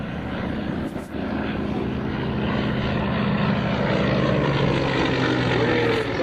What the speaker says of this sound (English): Here comes Bud now in the Yak 55.